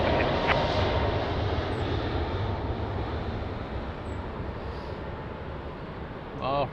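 A TAP airliner in retro livery at Lisbon Airport rumbles with a steady, moderately distant engine roar that slowly fades, with a brief voice near the end.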